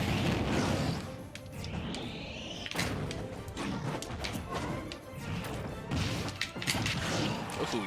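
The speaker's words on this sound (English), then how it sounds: "he smashed me out of it" Super Smash Bros. Ultimate fight audio, loud and busy: heavy smash and thwack impacts, thuds and quick whooshes over constant game noise.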